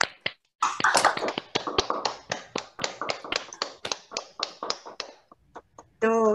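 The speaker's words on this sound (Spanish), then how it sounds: "para a gente poder bater palma e agradecer mais uma vez aos nossos convidados" Audience applause after a panel discussion, a small crowd clapping in a quick, uneven patter that swells then thins out to a few last claps, followed by a voice starting to speak.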